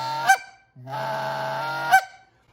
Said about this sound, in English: What we're doing is a long honk, shortening it up and getting to a fast cluck.